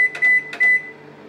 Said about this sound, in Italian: mettiamo i nostri spaghetti os nel microonde per